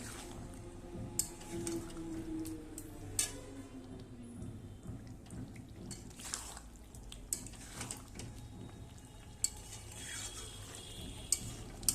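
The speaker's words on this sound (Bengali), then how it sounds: "চিনি দিয়ে একটু ভালো করে নেড়ে নেব।" A spoon stirring chili chicken in a pan after sugar is added, giving soft repeated scraping and light clinks with a few sharper taps over a steady low background, moderately faint and close.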